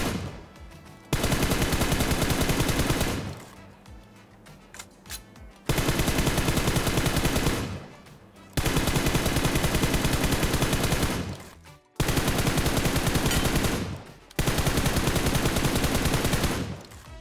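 Bursts of rapid gunfire in a video game aim trainer shooting moving targets, four long loud volleys separated by short quiet gaps, no talking.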